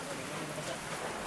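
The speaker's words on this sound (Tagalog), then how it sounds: "Lakas ng ulan" Heavy rain hisses as a dense, steady roar, filling the background evenly without a break. It is fairly faint overall, and a voice can be heard speaking over it.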